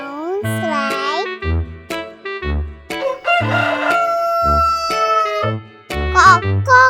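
A voice imitates a rooster crowing in a sing-song, cock-a-doodle-doo style, delivered as a rhythmic string of bright, close vocal bursts.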